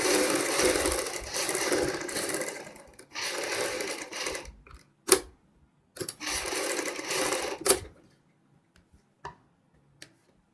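A sewing machine stitches the front neck of a kurti in three short runs of rapid whirring, separated by pauses with a few sharp clicks and ticks, close and loud.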